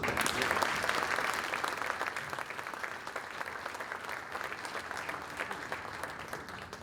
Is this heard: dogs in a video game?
no